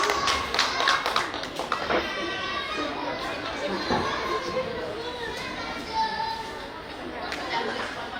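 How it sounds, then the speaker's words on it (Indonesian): An audience claps and cheers at a birthday stage show, a dense burst of applause with children's chatter mixed in, gradually settling into crowd murmur. "Tepuk tangannya dong."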